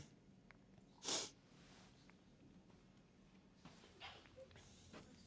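A single sneeze bursts out sharply over a quiet room, followed by faint rustling and breathing.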